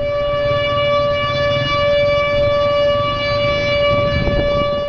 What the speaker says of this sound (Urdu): تیسرے مرحلے میں ایک مخصوص قدرے طویل سائرن کی آواز کے ذریعے علاقہ خالی کرنے کی وارننگ دی جاتی ہے